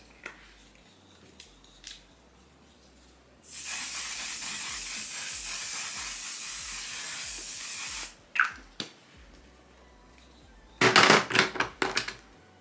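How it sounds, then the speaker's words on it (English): A long continuous hiss of makeup setting spray lasts several seconds, then a few short bursts follow, with faint clicks and rustling between them. "I'm gonna go in with my one side setting spray"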